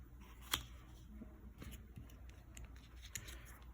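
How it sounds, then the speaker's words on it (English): Playing cards are dealt onto a table for a game of Tut's tomb solitaire, giving a few faint, soft taps and slaps spaced out over a quiet background, with one sharper snap near the start. "you start placing them down like this"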